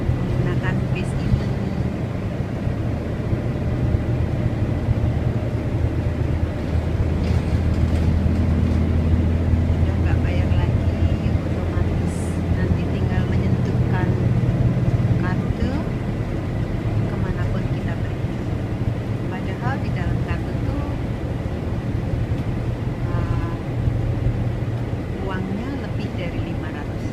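A city bus driving through Tokyo, heard from inside: steady low engine and road rumble runs throughout, with faint rattles and people talking in the background.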